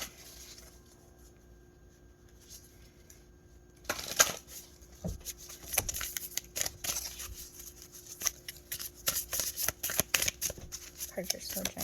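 Oversized cards riffled and shuffled by hand at close range, a quiet start giving way after a few seconds to dense bursts of papery slaps and flutters that continue to the end over a faint background.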